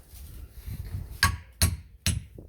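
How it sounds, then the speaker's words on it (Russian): Hammer blows during repair of an air strut on a Mercedes W220, three sharp close metallic strikes in quick succession after some softer workshop handling noise. "потом нам надо молоток с красной ручкой"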